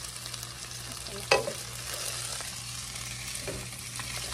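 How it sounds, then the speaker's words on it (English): Frozen Buldak fried rice sizzling in a skillet, close and steady, while a spatula stirs it with a sharp scrape and occasional clinks against the pan. "We put it all into the skillet. Now we're going to give it a mix."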